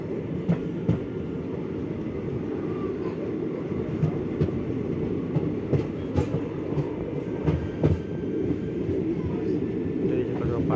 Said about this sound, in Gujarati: પાટો બદલાઈ રહી છે ટ્રેન.